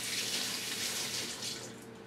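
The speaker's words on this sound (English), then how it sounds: "Wash our whisk off." Tap water running steadily into a kitchen sink while a whisk is rinsed off, a continuous close hiss and splash with no talk.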